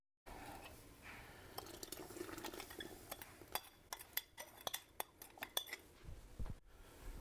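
Ingredients being mixed in a bowl, fish sauce and sugar among them, for a Filipino oxtail stew: a run of scattered clinks and knocks, sharper and quicker toward the end, over a faint wet background.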